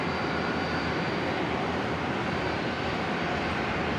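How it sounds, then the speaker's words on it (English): A Boeing 737-400 freighter arriving on runway 19 left at Brisbane airport, heard as a steady, broad engine roar that holds even and loud throughout with no voices. "So we got the toll freighter number 2 for arrival on 19 left"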